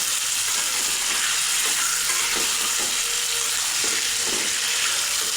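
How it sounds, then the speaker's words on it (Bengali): Onions and chicken fry in oil with garam masala for a home-style chicken biryani, a loud continuous sizzle with occasional stirring scrapes and clinks, with no talking. "পেঁয়াজটাও ভাজা হবে, চিকেনটাও ভাজা ভাজা হবে।"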